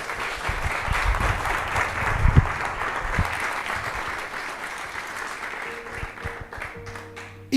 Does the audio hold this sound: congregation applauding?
yes